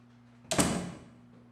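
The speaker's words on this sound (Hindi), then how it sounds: "दरवाजा बंद कर दो।" A door swings shut once with a single sharp, fairly close thud and a brief fading tail, set against a quiet indoor room hum with no talking.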